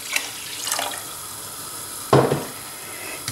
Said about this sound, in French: Je vais mettre de l'eau.